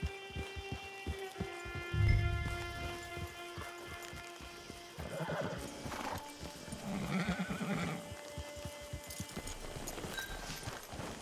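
A horse in Red Dead Online whinnies loudly and its hooves clip-clop in a steady rhythm, with further neighs later over light rain and an ambient backdrop.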